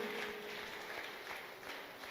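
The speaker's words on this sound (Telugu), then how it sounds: "అందరు గట్టిగా చప్పట్లు కొడదాం" A church congregation at a healing service clapping steadily together, a dense, continuous wash of applause heard from a moderate distance at a faint level.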